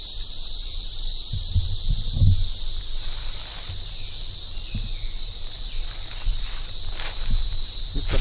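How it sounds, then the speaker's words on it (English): Cicadas drone in natural, uncut Oklahoma woodland in Hughes County on a hot, humid day, a continuous high buzzing chorus with faint rustling and a few soft thumps underneath. "Got the cicadas calling."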